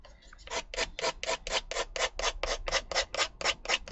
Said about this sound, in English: I'm just using an emery board